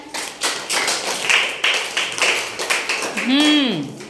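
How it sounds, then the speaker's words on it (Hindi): Children clap along in a classroom during a phonics lesson, bursts of quick rhythmic claps over about four seconds, ending with a rising and falling whistle-like tone. "वेरी गुड, तालियां बजाएं।"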